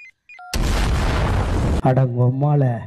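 Car explosion in a Tamil film: a sudden loud, broadband boom that roars for over a second, preceded by faint tones and followed by a voice shouting or crying out.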